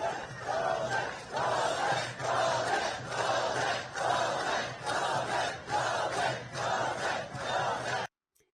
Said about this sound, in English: This crowd is going nuts because they're going to be liberated from what?